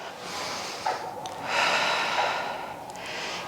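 A person doing an intermediate full-body Pilates reformer workout breathes out, a close, breathy exhale that swells and fades with a short snort-like puff before it. A soft voice speaks quietly under it.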